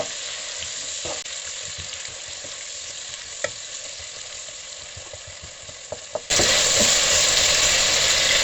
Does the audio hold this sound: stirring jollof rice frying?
yes